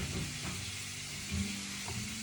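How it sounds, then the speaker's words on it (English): Shrimp sizzling steadily in a hot pan with a soft crackle, a few faint stirring scrapes over the hiss, no voices. "as the shrimp continue to cook"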